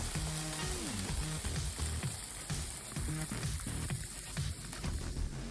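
A burger sizzling on aluminum foil over a Coleman portable propane grill, a loud, steady greasy crackle close by with no talking.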